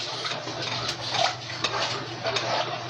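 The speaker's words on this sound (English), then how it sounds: "And then you just stir it up until" A utensil stirs milk into cheese sauce in a pot, giving a steady wet sloshing with repeated scraping clinks against the metal, close and fairly loud.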